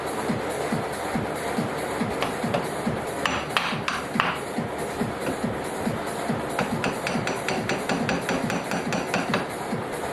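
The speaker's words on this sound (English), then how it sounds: "pulling those bushings out with a screwdriver and a hammer, because they're polyurethane" Hammer driving a screwdriver to knock polyurethane lower control arm bushings out of a Nissan 350Z, a rapid run of sharp metallic strikes in a steady, close rhythm with a few brighter clanks mixed in.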